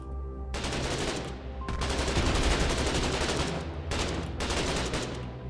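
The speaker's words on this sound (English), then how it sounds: "It sounds like a gun, though." Sustained automatic gunfire in a video game rattles in close, loud bursts with short pauses between volleys.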